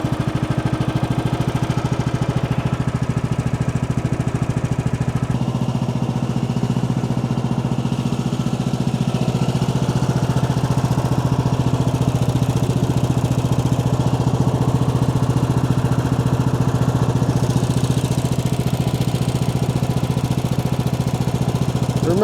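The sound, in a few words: Woodland Mills sawmill engine running after oiling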